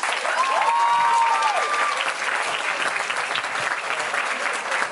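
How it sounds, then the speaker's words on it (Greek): An audience applauds steadily at a school commemoration celebration, dense clapping filling the whole stretch with a brief tonal whistle-like note early on, no voices standing out. "Ένα χειροκρότημα!"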